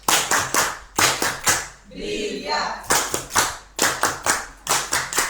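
Bursts of audience applause at a live World Patient Safety Day health event in Angola, broken by a short spoken exclamation in the middle before the clapping swells again.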